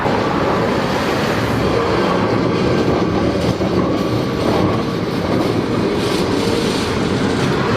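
A busy Lisbon tram on New Year's Day passes close by with a steady, loud rolling rumble and rattle that fills the whole stretch, without talk.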